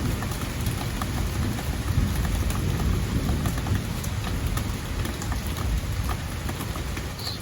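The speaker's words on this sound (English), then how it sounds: "So we have a thunder and lightning storm here." Heavy rain pours down steadily during a summer thunderstorm over a garden, with dense close patter on surfaces and low rolling thunder rumbling underneath, continuous throughout with no talking.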